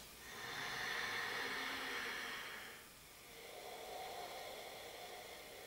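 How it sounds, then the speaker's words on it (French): A child's loud, breathy exhalations and inhalations, a long hissing breath followed by a softer one, close to the ear with no talking. "On l'invite à faire du bruit avec sa respiration."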